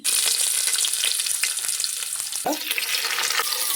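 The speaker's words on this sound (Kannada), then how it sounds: "ಸಾಸಿವೆ, ಕರಿವೇಪಾಕು ಹಾಕಿದ್ದೀನಿ." Loud, steady sizzling of mustard seeds and curry leaves frying in hot oil, with a brief spatter and scrape midway, close up.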